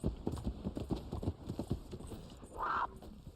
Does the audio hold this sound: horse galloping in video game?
yes